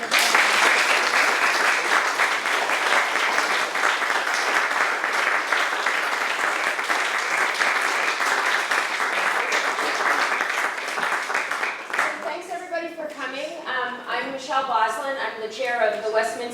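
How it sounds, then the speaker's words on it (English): An audience at a Windham County Democratic Senate candidates' forum claps loudly and steadily for the candidates for about twelve seconds, then the applause fades as a voice begins speaking. "So I think we should give them a round of applause."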